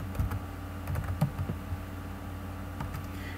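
Typing on a computer keyboard, a close run of soft, quick key clicks in short irregular bursts, then a pause and a few final taps, over a quiet room hum.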